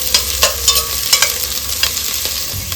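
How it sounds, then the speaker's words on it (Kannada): Sliced onion frying in a pan for pork biryani, a loud, steady hiss of sizzling oil broken by the scrape and clink of stirring, with no voices over it. "ಫ್ರೈ ಮಾಡ್ಕೊಳ್ಳೋಣ."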